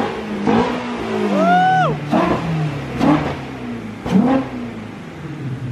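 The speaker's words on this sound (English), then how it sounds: "Let's go rip it." A Ford Mustang GT350 V8 on a dyno revs hard in several loud rising and falling bursts, each snapping up and dropping back; high whining tones sweep upward in the middle.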